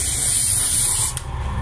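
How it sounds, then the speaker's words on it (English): An aerosol spray can hisses loudly and close as it sprays cap plastic for a flat prosthetic, one steady burst that cuts off near the end. "When you spray the cap plastic"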